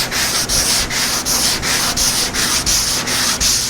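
A power sander works over the hood of a 1952 Chevy, a loud, steady abrasive rasp broken into regular rhythmic pulses as the pad sweeps back and forth across the metal.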